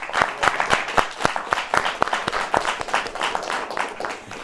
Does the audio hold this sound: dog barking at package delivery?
no